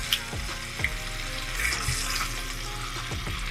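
Butter sizzles in a frying pan with snapper fillets, a moderate steady hiss broken by a few sharp clinks and bubbling crackles.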